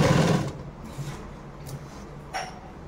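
A tailor's sewing machine stitches a blouse neckline in a brief loud whirring run at the start, then falls to a quiet hum with a few faint mechanical clicks.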